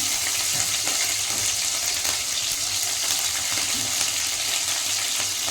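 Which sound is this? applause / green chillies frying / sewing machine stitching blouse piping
green chillies frying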